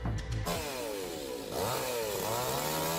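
A chainsaw cuts into a tall tree beside a house, its engine droning steadily and loudly throughout, with the pitch shifting as it revs and bites into the wood.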